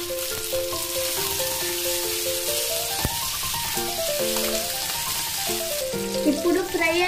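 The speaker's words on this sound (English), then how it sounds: "One side fry ayindi kadandi, maroka side fry cheskundam." Fish coated in masala frying on a tawa, a continuous broad sizzle with occasional sharper crackles and a scrape near the middle, heard steadily throughout with music playing over it.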